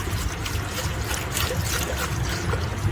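Coolant trickles and gurgles into the cooling system of an overheating car, a close, steady pouring sound that runs without a break.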